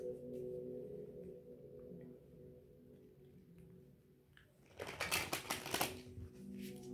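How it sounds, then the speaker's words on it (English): A tarot deck being shuffled by hand: a short, crisp burst of riffling card flicks near the end, over a steady low background hum. "I just want to shuffle the tarot in front of y'all."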